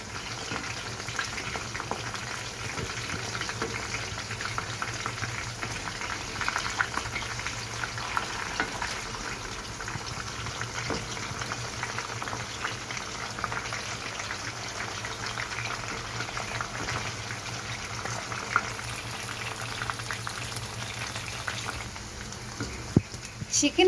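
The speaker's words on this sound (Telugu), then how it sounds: "హై టు మీడియం ఫ్లేమ్లో క్రిస్పీగా వచ్చేంత వరకు ఫ్రై చేసుకోవాలి." Kaju chicken pakodi deep-fries over high to medium flame until crispy, street-cart style, giving a continuous bubbling sizzle that stays steady and close for the whole stretch.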